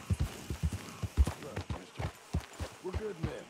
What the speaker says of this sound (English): I see there are horses right there.